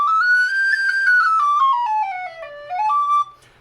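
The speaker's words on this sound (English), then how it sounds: "especially between the Susato there's quite a bit of difference between these whistles" A Susato tin whistle plays a melodic phrase alone, the notes climbing then stepping gradually downward with a brief leap back up near the end, clear and steady at close range.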